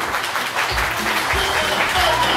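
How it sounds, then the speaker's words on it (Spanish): Audience applause at a karaoke event, a dense, loud wash of clapping filling the whole stretch, with a few low thumps beneath it. "Y aplausos para mami"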